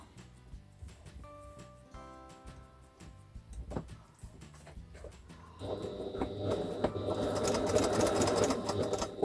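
A sewing machine runs around the edge of a small lavender bag, first in short quiet bursts with faint ticking and then in a louder, sustained whirring stitch.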